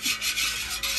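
A metal utensil scrapes around the side of a pot roast pan, a steady rough rasping and rubbing that carries on continuously at close range without any talk over it.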